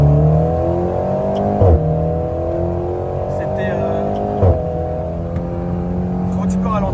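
A car accelerates hard on a race track, the engine note climbing steadily through the gears with two brief shift breaks, loud and close from inside the cabin, while voices talk over it.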